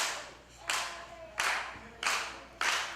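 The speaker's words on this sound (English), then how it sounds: "Crowd now trying to get Kid Christian back into this thing." Wrestling crowd at a CZW Dojo Wars event clapping in unison, four loud rhythmic bursts of applause spaced evenly about two-thirds of a second apart, echoing in the venue with no talking over them.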